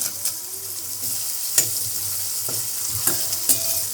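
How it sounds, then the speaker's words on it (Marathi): Curry leaves and peanuts with onion frying in a pan for matar upma, a steady close sizzle with a few sharp spatula scrapes and clicks against the pan, no talking. "कढीपत्ता घ्यायचा आवडीनुसार मिक्स करून घेऊया"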